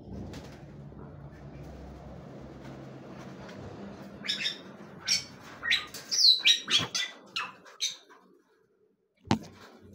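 Birds chirp and call in a simple backyard aviary housing white-rumped shama nests, a burst of sharp tweets and whistles clustering mid-clip over a low background murmur, then a single sharp click near the end.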